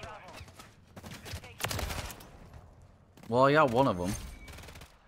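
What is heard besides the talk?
TAQ Eradicator LMG gunfire in video game Modern Warfare 3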